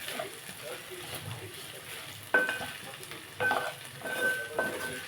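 A spoon stirs curry in a sizzling pan, the frying hiss steady underneath while three sharper scrapes against the metal stand out, with a faint voice in the background.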